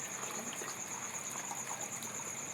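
Warm water running and splashing steadily for a buffalo to drink, a continuous close trickling gush with a faint high whine behind it and no talk.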